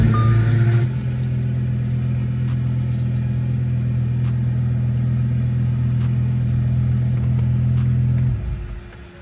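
Lamborghini driving on a road, a steady low engine rumble holding for about eight seconds before fading off, heard up close with no talk.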